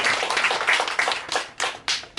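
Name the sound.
audience clapping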